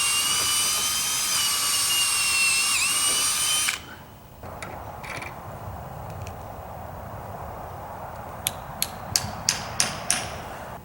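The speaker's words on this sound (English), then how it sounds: "My battery died on my drill again." A cordless drill with a dying battery whirs loudly and steadily for several seconds, then cuts out, leaving a quieter stretch with a few sharp clicks near the end.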